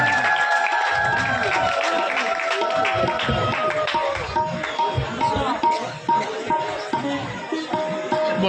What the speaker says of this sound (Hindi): आज मुख्य अतिथि श्रीयुत समीर रंजन दास गोटे जोरदार और हुलहुली मध्यम करताली मध्यम